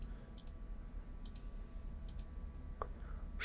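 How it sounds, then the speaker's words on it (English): A computer mouse clicking several times, each a faint paired tick with short gaps between, close and alone in a quiet room. "So I'm going to click on an area"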